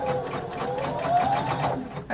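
Sewing machine stitching a turned-over hem close to the edge on a jumpsuit, a steady close whirring run that lasts the whole moment before easing off.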